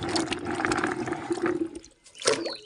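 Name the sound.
washing Indian gooseberries (amla) in hot water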